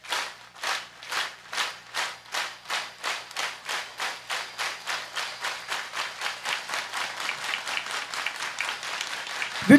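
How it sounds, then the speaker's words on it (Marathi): An audience claps hands in unison during a Marathi devotional kirtan, making a long run of about thirty crisp, evenly spaced claps that gradually speed up and grow denser, with no talking over them. "टाळ वाजू नका, फक्त टाळी."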